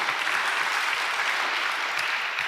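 Church congregation clapping steadily throughout, a dense even wash of applause filling the space with no voices standing out.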